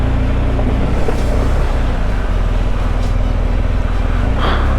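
BMW GSA adventure motorcycle crossing deep water on a Nevada trail, a loud continuous rush of churning, splashing water over a steady engine drone, close and unbroken throughout.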